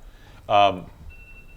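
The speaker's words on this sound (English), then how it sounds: "We got a timer going off over there. that's a 2-minute parking. timer." A two-minute parking timer goes off once in a single short burst of bright, steady electronic beeping, close by and fairly loud, with quiet surroundings before and after.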